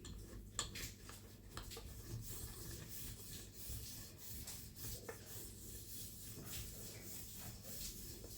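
Soft, steady rubbing and rasping as a wooden rolling pin rolls thin sheets of layered phyllo dough for baklava, a quiet continuous scrape with a few faint knocks and no voices.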